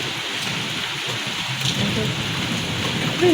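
Steady rain pours down, a dense hiss of drops drumming on surfaces, with a faint low rumble of thunder.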